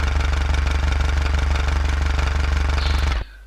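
A diesel four-cylinder engine in the BeamNG driving game chugs loudly and evenly with a knocking rattle, then cuts off abruptly near the end, leaving a faint low hum.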